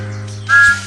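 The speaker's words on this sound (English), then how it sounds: "Try pulling the yellow lever to blow Thomas's whistle." A single shrill steam-style whistle from Thomas the Tank Engine in a railway video game, sounding once for about a quarter second over a steady low background hum, up close and fairly loud.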